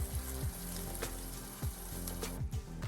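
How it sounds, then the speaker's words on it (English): Agave jalapeño lime sauce slowly simmering in a pot on the stove, giving a steady close hiss with soft low bubbling pops at irregular intervals and no voices. "Now we're going to turn down the heat on the stove, and then let it slow simmer."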